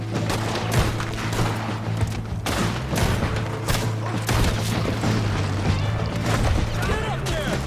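Repeated gunshots and heavy booms ring out in a firefight in the video game Red Dead Redemption 2, irregular bursts layered over a low steady hum, loud and close.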